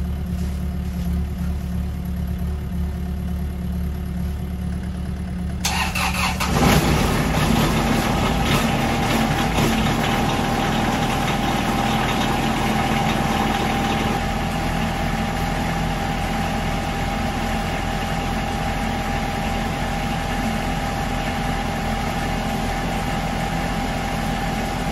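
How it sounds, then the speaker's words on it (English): A Kubota F3680 lawn tractor engine warming up idles steadily and loudly nearby, its tone shifting as it catches and settles into a continuous rough drone. "This one will warm up, get the lawn tractor up and running."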